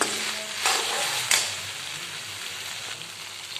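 Okra masala stirred in a hot pan, a soft steady sizzle with two sharp scraping strokes of the spoon early on, then quieter frying.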